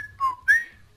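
A short two-note whistle from Fallout: New Vegas, a clear falling tone followed by a rising one, loud and alone over a faint low hum.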